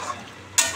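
Chicken meat being stirred and fried in a pan, a soft steady sizzle with a louder burst of scraping and frying near the end, close and alone.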